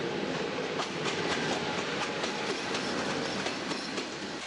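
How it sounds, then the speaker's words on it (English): A train rolls through Sinaia train station in Transylvania, with a steady rumble and rhythmic clickety-clack of wheels over rail joints, continuous and fairly close, no voices. "Sinaia train station."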